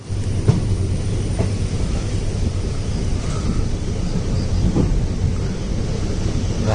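A train heads from Sakleshpura toward Mangalore, pulling away with a steady, loud low rumble and rolling rattle that fills the whole stretch with no pause.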